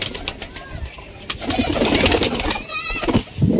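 A baby pigeon gives soft cooing calls in a loft among other pigeons, faint and close under someone talking over it, with scattered bird chirps and rustling.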